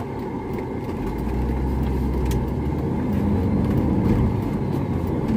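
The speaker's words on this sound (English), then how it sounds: "A lot of traffic right now." Road traffic with cars and a truck passing, a steady low engine rumble and tyre hum heard from inside a vehicle, continuous and moderately loud.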